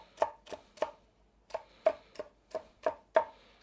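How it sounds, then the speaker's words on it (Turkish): A knife chopping red and green chili peppers on a board: nine crisp, separate strikes at an uneven brisk pace, close and clear with no talk. "Bunları da yine aynı şekilde doğruyorum"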